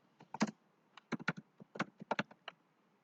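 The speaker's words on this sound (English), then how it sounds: "you're going to go to your Google and you're going to type Google theme" Close, crisp keystrokes on a computer keyboard come in uneven bursts of quick taps separated by short pauses, in an otherwise quiet room.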